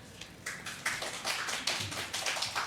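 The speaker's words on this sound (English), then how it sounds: "Please don't clap, whether you agree or disagree." Audience applause at a Temple City council meeting, a scattered patter of hand claps that swells in uneven waves over a few seconds, moderately loud and without voices.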